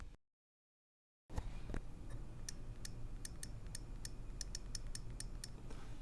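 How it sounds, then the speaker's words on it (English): A burst of quick, light clicks from an iPod Touch on-screen keyboard, irregular then speeding into a rapid run, over a steady low hum; no one speaks. "So that's how the keyboard sounds."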